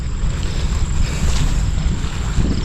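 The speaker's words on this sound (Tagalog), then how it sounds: "Hangin pa." Wind blows hard across an open farm, buffeting the microphone with a constant broadband rush and low rumble.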